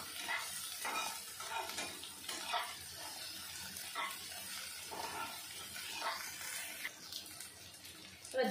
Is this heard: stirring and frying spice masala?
yes